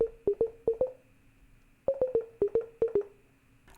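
A clicky, poppy bongo-like percussion sound in a hip-hop beat, played alone in two quick rhythmic bursts of sharp, pitched taps, panned and sweeping, with no voices.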